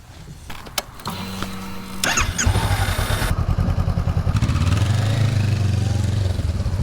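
A motorbike engine idles with low rumbling pulses, then revs up and settles into a steady, loud drone as the bike gets underway.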